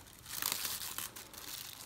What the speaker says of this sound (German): Und das Teil ist mal aus der Folie genommen.